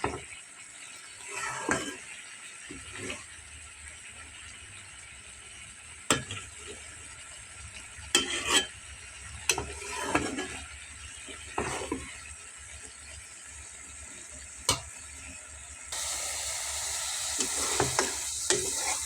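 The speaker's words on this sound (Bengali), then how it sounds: "ভালো করে ভাজা ভাজা করে কষিয়ে নেব। যত ভাজা ভাজা করা হবে ভুঁড়িটা খেতে তত টেস্ট লাগবে।" Beef tripe fries in a pan with a steady soft sizzle, while a utensil scrapes and stirs it in intermittent sharp strokes. The sizzle grows louder near the end.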